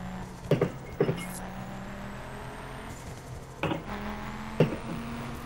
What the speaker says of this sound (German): Wie man beim Ford Focus einfach immer ständig diesen Turbolader hört.